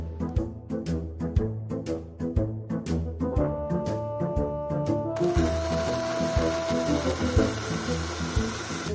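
A kitchen blender grinds boiled potatoes with a loud, steady whirring and rattling whose pitch shifts partway through.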